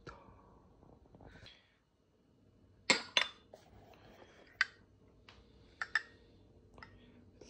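Newly bought tableware in a soon-to-open cafe, heard as a few sharp clinks and taps of dishes being set down, close and spaced apart in a quiet room.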